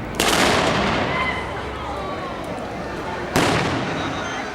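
A maroon warning firework is fired before a 22-story London tower demolition, sounding as a sharp loud bang with a long rumbling echo, then a second bang a few seconds later.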